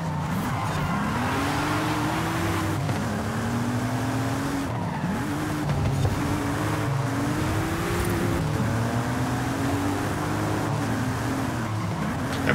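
A pursuing car in the Forza Horizon 5 racing game on the Mink Creek Circuit whines with a steady, rising and falling engine note, shifting through gears alongside loud tire squeal, continuous and close behind.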